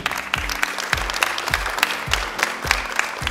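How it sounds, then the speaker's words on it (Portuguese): Audience applause after a free theatre performance in Sepetiba: a steady wash of clapping that fills the room, with a regular low thumping pulse beneath it that keeps a beat. "Uma salva de palmas."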